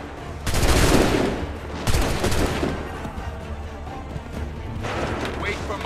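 Musket volleys from colonial soldiers at Lexington and Concord in Assassin's Creed 3, with two loud crashing volleys close together early on, then a rumbling battlefield din and another burst near the end, with commands shouted over it.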